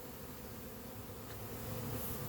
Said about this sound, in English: here's the swarm that I did last night